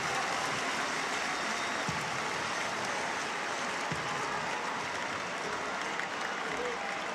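Dense crowd murmur fills a baseball stadium during a tense late-inning Tigers vs Guardians game, a constant roar with a couple of faint thumps, and no clear individual voices standing out.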